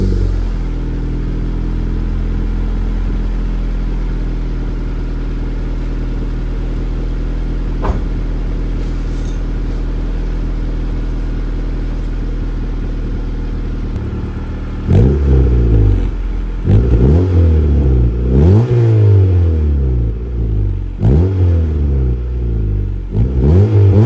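A Honda Civic EK hatchback with a Revel Medallion exhaust and a loose middle pipe leaking, idling steadily and loud for a long stretch before a series of sharp revs rising and falling in quick succession.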